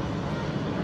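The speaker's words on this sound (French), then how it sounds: "turning now downwind, the Airbus A380" An Airbus A380 airliner turning downwind during a flying display at the Le Bourget 2015 air show gives a steady, loud, broadband jet roar with no breaks.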